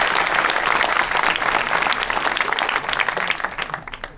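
Lively audience applause at a wedding-themed comedy show, dense and close at first, then gradually thinning and fading toward the end.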